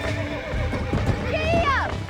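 A horse in Red Dead Redemption gives a loud, close whinny near the end, over the thud of hooves and clip-clop, while voices talk throughout.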